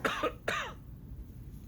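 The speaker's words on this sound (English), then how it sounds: "Watch as he begins coughing, and coughs some more, and coughs some more." A man coughs in two quick harsh bursts, a short double cough followed by a second rougher one, then quiet room tone.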